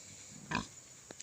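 A domestic breeding sow gives one short, low grunt, quiet and close on a farm in the Philippines, followed by a faint second snort.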